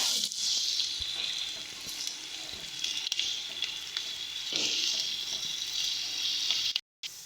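Onions frying in a pan for an ilish fish roe bhuna, a steady close sizzle with occasional stirring scrapes running throughout before a brief sudden cutoff near the end.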